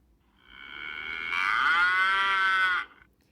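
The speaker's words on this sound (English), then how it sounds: "Cow." A single cow gives one long, drawn-out moo that swells in loudness and cuts off after about two and a half seconds, close and clear against a quiet background.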